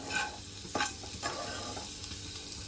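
Eggs frying with masala in a pan over a low flame for egg spinach curry, a soft, quiet sizzle broken by a few brief stirring scrapes, no talking.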